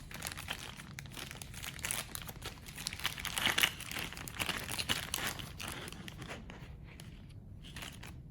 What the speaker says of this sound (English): Grab the baggie marked handle and pull the contents out.